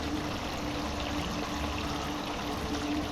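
Water pours steadily onto a gold spiral wheel, a continuous rushing, splashing stream that holds even and fairly close throughout, with no voices.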